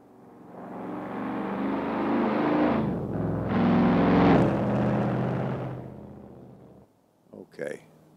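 Plymouth GTX with a 440 big block V8 in Assetto Corsa swells into a loud, rumbling acceleration, drops for a gear change, surges again, then fades; someone speaks briefly at the end.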